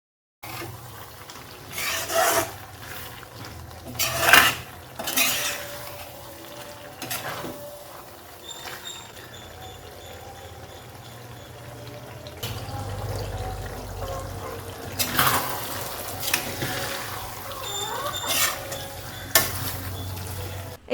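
Goat intestine is stir-fried and roasted in a pan, with bursts of scraping and stirring over a constant sizzle. The stirring comes in uneven strokes and grows busier toward the end, with no talking.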